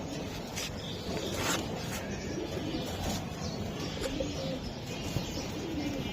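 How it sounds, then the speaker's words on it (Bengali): Racing pigeons cooing in a loft, soft repeated throaty coos at close range over a steady background hum, with a few brief higher chirps and rustles. "এই কবুতর"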